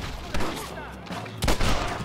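Gunfire in the Red Dead Redemption video game: two or three loud, sharp bursts of shots, close and separated by short pauses, with voices talking faintly underneath.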